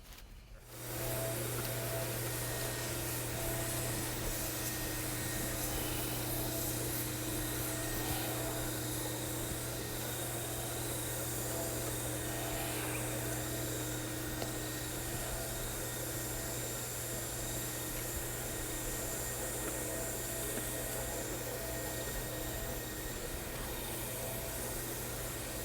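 HTC concrete floor polishing machine running a blue 200 grit Phoenix pad over a self-leveling concrete topping, a steady loud drone with a low hum and broadband whir held continuously throughout.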